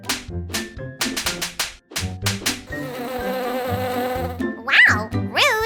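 A bee buzzes in a cartoonish, musical way, with quick plucked notes and a wavering whine rising and falling over a light backing, loud and close, alone without talk.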